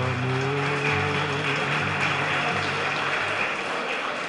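A lecture audience on the new Brazilian middle class claps for the women of that class: a steady, dense wash of applause lasting throughout, with a low tonal hum running underneath.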